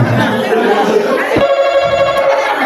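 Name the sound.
telephone ringing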